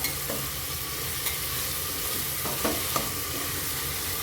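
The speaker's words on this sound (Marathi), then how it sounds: "त्याच्यामध्ये आपल्याला वटाणा आणि बटाटा टाकून घ्यायचा आहे तो पण तेलावर आपल्याला छान परतून घ्यायचा आहे" Peas and potatoes frying in hot oil while being stirred, a steady close sizzle with a few faint scrapes of the spoon against the pan, no voices.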